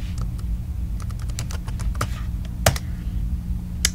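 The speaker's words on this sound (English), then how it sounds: "I'm going to type in dictionary." Keys on a computer keyboard are tapped out in a quick, uneven run of clicks to enter a single word into a search box, close and clear over a steady low hum, with no talking.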